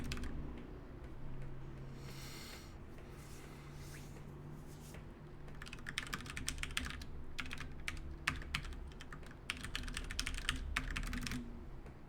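Someone types on a computer keyboard close by in the quiet of a programming session, with dense, rapid clacking keystrokes in uneven bursts over a low background hum.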